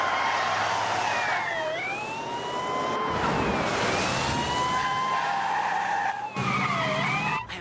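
A wailing emergency siren sweeps up and down continuously and loudly, close by, with a steady roar of traffic or engine noise underneath and no talking.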